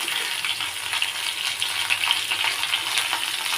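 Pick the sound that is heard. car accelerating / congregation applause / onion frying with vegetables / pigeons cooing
onion frying with vegetables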